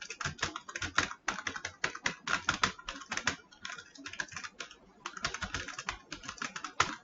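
Quick, irregular tapping on a computer keyboard while typing JavaScript code, a dense run of close key clicks with brief pauses between bursts and no speech.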